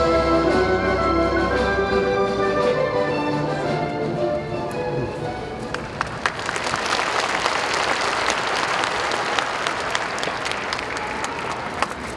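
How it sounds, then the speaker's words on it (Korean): Music fades into a swelling wave of sustained applause from a large audience at the Kim Dae-jung 100th birth anniversary ceremony, welcoming former president Moon Jae-in to the stage. The clapping is steady, full and crowded. "먼저 문재인 전 대통령님을 무대로 모시겠습니다. 박수로 맞아주시기 바랍니다"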